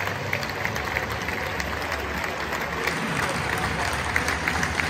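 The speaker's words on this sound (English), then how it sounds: "Respect to these Frankfurt fans clapping on the Rangers team to collect their second" Frankfurt fans in a packed stadium applaud Rangers players collecting their runner-up medals after the Europa League final, a continuous roar of clapping and crowd noise with no single claps standing out.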